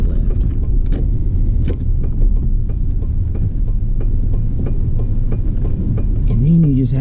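Vehicles drone past at an intersection near Cades Cove, a steady loud hum of engines and tyres with repeated passing swells, and a voice briefly heard near the end.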